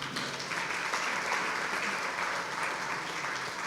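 A church congregation applauds the Lord during a Portuguese-language sermon, steady dense clapping filling the room evenly from start to finish with no pauses.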